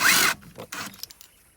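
A T50 Torx bit spinning out a front seatbelt bolt on a 2004-2016 Ford Territory SX-SZ, a short loud burst of power-driver whir followed by a few light metallic clicks and rattles.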